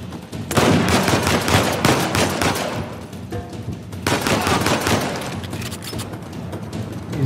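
Dense bursts of rapid gunfire from a shootout in the video game Uncharted 4 A Thief's End, two long loud volleys of automatic shots with a brief lull between them, no talk.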